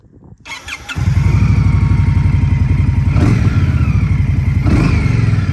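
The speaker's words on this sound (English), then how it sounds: "Yeah, that's a pretty good exhaust note. Very V-twin sounding" A 2023 Indian Scout Rogue motorcycle engine cranks and fires up, then settles into a loud, lumpy, rhythmic V-twin idle close by, with a couple of slight throttle blips.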